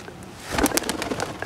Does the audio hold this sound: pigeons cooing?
yes